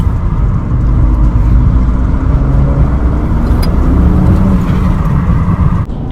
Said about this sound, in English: when you go and let off the gas, you're gonna hear a fluttering like do-do-do-do-do with the blow-off valve